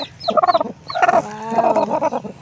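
A brooding native hen sitting on her eggs lets out a string of loud, close, drawn-out clucks and throaty calls, several in quick succession with no people talking.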